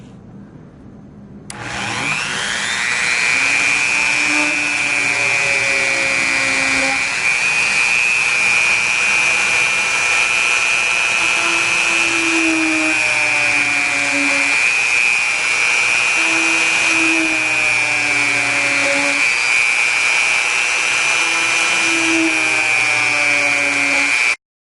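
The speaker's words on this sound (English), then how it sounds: "Drilling the circuit board holes is done next." A small high-speed drill whines loudly and steadily after a brief quiet start, its pitch dipping slightly as it bites into a circuit board while drilling holes.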